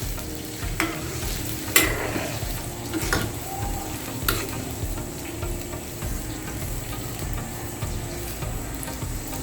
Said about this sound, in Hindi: अभी इसमें हम ये हमारा लोबिया है, ये इसमें शामिल कर लेंगे। इसे अच्छे से मिक्स कर लेंगे।